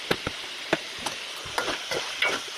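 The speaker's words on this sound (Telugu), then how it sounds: "ఇలాగ ఫ్రై చేస్తూ ఉండాలి." Chicken pieces fry in a pan, soft sizzling under repeated scraping stirs and light taps of a spatula at close range, irregular and fairly quiet.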